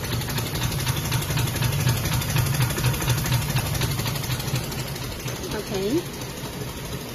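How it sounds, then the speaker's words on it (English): A 200L perfume making machine runs its mixer with a steady mechanical hum and whir, close and constant throughout, while someone speaks briefly near the end. "let's check the mixing function"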